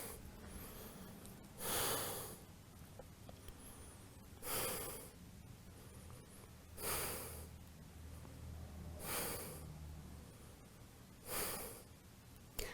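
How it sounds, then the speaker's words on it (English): Slow, deep breaths during a yoga twist pose in a vinyasa flow practice, five airy breaths at a steady unhurried rhythm, close and quiet with no talking. "But just breathe here."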